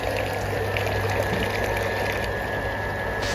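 An automatic goat kid feeding machine mixes water and milk in an indoor rearing barn, a constant loud pump-like hum and liquid churning with steady tones, with no voices.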